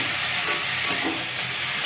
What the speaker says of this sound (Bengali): আলুটা ভাজা ভাজা হয়ে গেছে এবার একটু ফুলকপিটা দিয়ে দিলাম